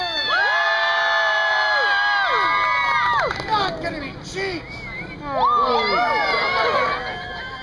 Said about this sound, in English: That's a different cheer altogether